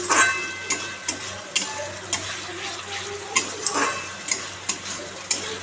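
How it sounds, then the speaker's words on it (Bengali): Water poured into a pan of hot oil and spice paste with tomato while cooking parshe fish, giving a continuous bubbling sizzle punctuated by repeated sharp clinks and scrapes of stirring, close and fairly loud. "এবার আমি জল দিয়ে দেবো"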